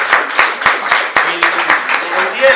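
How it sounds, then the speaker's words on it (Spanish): An audience applauds at a comedy evening, a burst of loud close clapping with sharp individual claps standing out, a few voices mixed in. "Quiero que les brindemos un fuerte aplauso tanto a Percy como a Walter y a Jorge"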